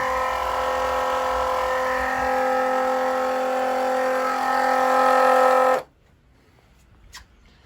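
An electric pump runs steadily to pump down a flooding home radiator system, a close, even whirring hum that cuts off abruptly after about six seconds, leaving near-silence with a faint click.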